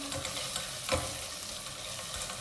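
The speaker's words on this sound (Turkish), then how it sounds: "Tereyağıyla biraz daha kavuruyorum." Vegetables for a carrot vegetable soup are sautéed in butter in a pot, with a steady soft sizzle and occasional spoon scrapes and a single clink.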